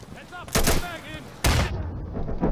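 Two loud, sharp bursts of gunfire crack out in the Insurgency game, each a sudden broadband blast with a brief tail, amid faint background voices.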